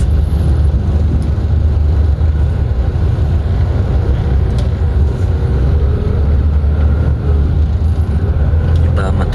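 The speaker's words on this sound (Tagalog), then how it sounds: "Grabe pala yung traffic dito" Steady, dense road traffic in the Philippines, with a constant low engine rumble and broadband roar that holds at one loud level throughout, no single vehicle standing out and no talk.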